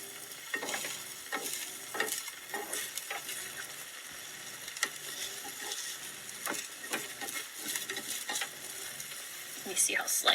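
An omelette sizzles and fries steadily in a frying pan, a continuous crackling hiss with occasional sharper pops and scrapes, fairly close and with no talking.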